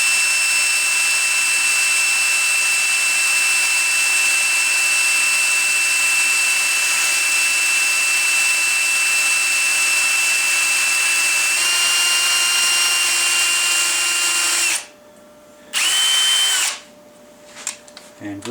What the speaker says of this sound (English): Now with the barrel clamped, I simply start drilling